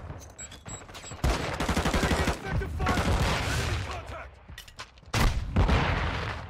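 Gunfire in a Call of Duty match, with loud blasts, overlapping shots and booming impacts in quick succession, dense and close with brief pauses between volleys.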